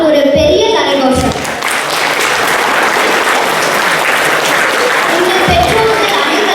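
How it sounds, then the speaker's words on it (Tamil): A large group of parents and guests applauds at a Hindu temple event in Austin. Loud, dense clapping fills several seconds, with a voice speaking briefly at the start and again near the end. "அதனால திரும்ப அவங்களுக்கு ஒரு பெரிய கரகோஷம்"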